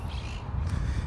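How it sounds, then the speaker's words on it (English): Monk parakeets, small green Quaker parrots, squawking outdoors in Brooklyn, a burst of harsh, raspy calls close by over steady low street rumble. "You hear the little green parrots?"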